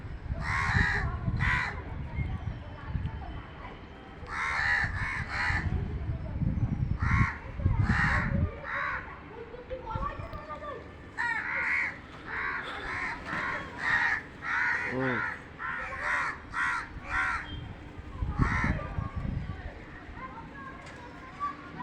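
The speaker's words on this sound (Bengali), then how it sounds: "যত না মাংস হবে তার থেকে বেশি কাক চিল চলে আসবে।" Crows gather where scraps of meat are being fed to them, with kites overhead, giving repeated harsh caws in bursts, some near and some farther off, while someone talks throughout.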